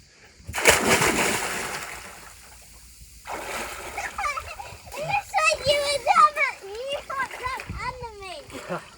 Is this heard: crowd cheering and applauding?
no